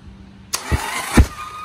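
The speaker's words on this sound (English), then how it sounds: "So I just want to crank it over with the cylinders open." A Harley-Davidson Sportster 1200 Custom, neglected for seven years, cranked over by its starter with the cylinders open. A sudden whir kicks in, then two strong low chugs come close and loud, with no talking.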